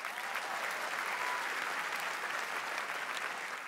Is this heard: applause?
yes